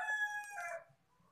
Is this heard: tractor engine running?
no